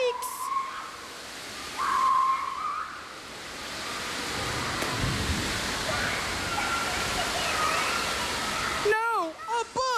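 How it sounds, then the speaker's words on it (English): A rainstorm makes a continuous broadband hiss that swells and eases, with a voice and brief warbling tones poking through near the start and end. "Mighty fine rainstorm we're having, isn't it?"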